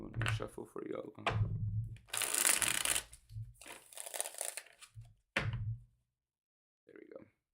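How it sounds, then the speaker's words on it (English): Tarot cards are shuffled in several bursts of crisp riffling and flapping, with a voice talking in between. "Let me shuffle for you, Elwa."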